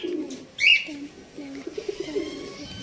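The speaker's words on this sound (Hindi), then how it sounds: "अहमद ने कबूतर रखे हुए हैं, पिजन रखे हुए हैं," Pigeons coo nearby in soft, low, rolling murmurs, with a brief sharper bird call near the start.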